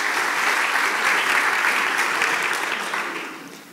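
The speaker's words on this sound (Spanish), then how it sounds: "Un fuerte aplauso para Sebastián." A conference audience breaks into strong, dense applause, a loud continuous crowd of clapping hands that fades over the last second.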